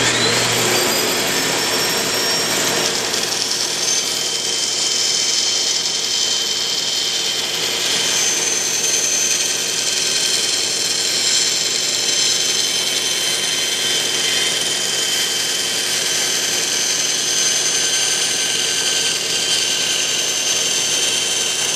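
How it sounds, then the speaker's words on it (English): A bandsaw cuts a wooden star for a Fourth of July decoration, its steady high whine running loud and unbroken throughout with no talking. "I'm not sorry, this is our bandsaw."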